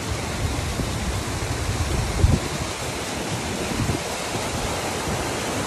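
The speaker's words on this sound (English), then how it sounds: "a little waterfall in the background" Steady broadband rush of a small waterfall at Three Shires Head, constant and fairly close, with no voices.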